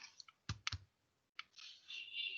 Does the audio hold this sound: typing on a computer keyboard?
yes